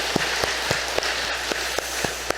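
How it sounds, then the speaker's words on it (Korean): A congregation claps in unison during a Korean Sunday church service, with sharp, evenly spaced claps in a steady rhythm over a diffuse room hiss. "그 복을 주신 우리 하나님께 박수로 감사드립니다"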